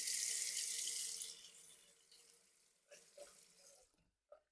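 A tap runs for about a second to wet a Merkur Futur safety razor, then shuts off, leaving faint clicks and light knocks of handling nearby.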